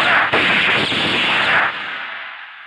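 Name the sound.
gunshots fired in the air in Hindi action film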